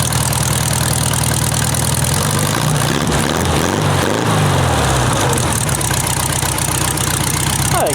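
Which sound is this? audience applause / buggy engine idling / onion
buggy engine idling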